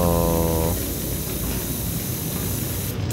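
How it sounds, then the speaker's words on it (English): Steady, loud gas leak hiss from the video game Portal 2, a broad continuous noise that follows a brief tonal game sound at the start and holds evenly to the end, with no talking. "Well, this is the gas leak sound."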